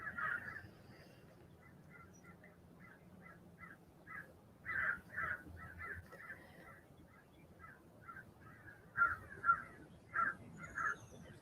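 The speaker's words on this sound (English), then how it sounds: "little birds showing up here." Birds, likely crows, call outdoors in a steady run of short, distant, repeated caws over a quiet background, with a few louder calls near the end and no talk.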